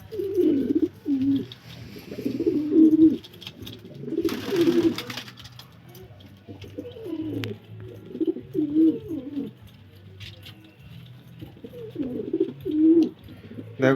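Pigeons kept at home give repeated soft, throaty coos in rhythmic bursts, close and clear, with brief pauses between phrases and a low background hum.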